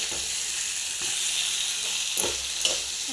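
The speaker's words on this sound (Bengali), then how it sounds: "এবার আমি ডিমগুলোও দিয়ে দেবো। ডিমগুলো দিয়ে ভালো করে নাড়াচাড়া করে দেবো।" Potatoes and eggs for an egg curry sizzle steadily in hot oil while a spoon stirs them. The frying hiss is loud and continuous and close by, with a few soft scraping stirs and no voices.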